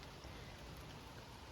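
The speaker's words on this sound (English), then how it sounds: "The clouds are kind of hanging low and it's still raining" Steady rain falls on a mountain trail along the Appalachian Trail, a faint, even hiss of drops with no other sounds and no talking.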